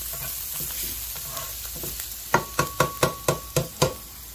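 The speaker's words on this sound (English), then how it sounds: "green chili, and just sauteing it." Green chili sautéing in an electric pan, a soft hiss of frying oil under a run of sharp, evenly spaced spoon scrapes and taps that grow louder toward the end.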